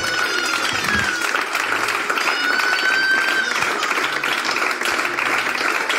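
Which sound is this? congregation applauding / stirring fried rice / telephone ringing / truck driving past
congregation applauding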